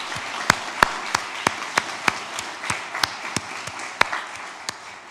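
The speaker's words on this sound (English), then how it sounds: "A big round of applause for all this powerful work." A church congregation claps after a service, the sparse, individual hand claps ringing out one by one in a reverberant room over a soft background hum.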